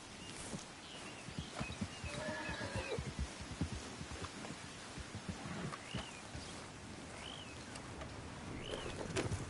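A horse in the game Red Dead Redemption 2 gallops with rapid, rhythmic hoofbeats alongside a few whinnies, with faint bird calls around it, all quiet and slightly distant.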